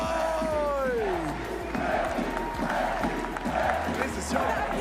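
A live crowd cheers and roars loudly and steadily, with scattered whoops and clapping blended into the noise, at a Fortnite event.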